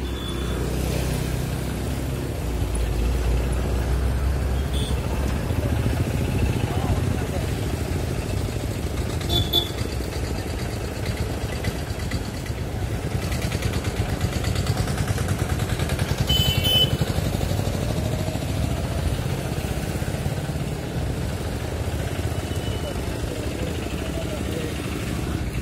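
Motorcycles and other vehicles moving through town traffic in Umerkote, a steady rumble of engines with some clatter running throughout, partly under people talking.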